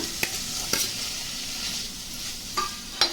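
Paneer frying in butter in a pan while being stirred, a steady close sizzle with a few sharp scrapes and clacks of the spoon at irregular moments.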